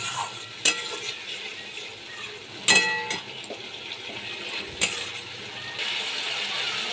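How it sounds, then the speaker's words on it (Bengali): Ginger, chili paste and tomato being sautéed in a pan for a fish curry: a soft continuous sizzle with a few sharp scraping clatters of a spatula against the pan, no talking. "আদা লঙ্কা টমেটো দিয়ে আমি ভালো করে কষিয়ে নিচ্ছি"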